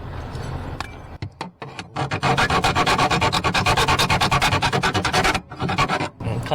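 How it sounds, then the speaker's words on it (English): Hand file rasping back and forth on a part being fitted during a 1965 Karmann Ghia tachometer install, a loud, steady run of close rhythmic strokes after a few brief scrapes and pauses. "So we'll continue in there with that file."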